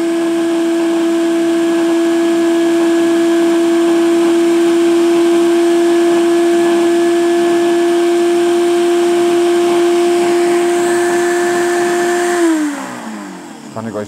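A Philips HR2096/00 800-watt countertop blender runs steadily and loud, its motor whine holding an even pitch for about twelve seconds before winding down as it is switched off, with no talk over it.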